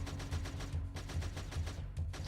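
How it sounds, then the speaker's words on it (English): Machine-gun strafing from an aircraft in the video game Creeper World 3: a steady chain of rapid, evenly spaced gun bursts, dense and fairly loud, running unbroken for a couple of seconds. "This one's just guns, does strafing runs"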